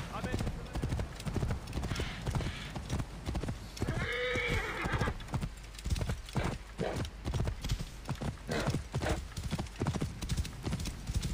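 Hooves clip-clop steadily through a video game scene, with a horse whinnying clearly around the middle, under ongoing game noise and background voices.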